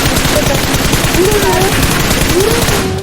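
Rapid automatic gunfire in a video game, loud and continuous bursts throughout, with a voice talking over it.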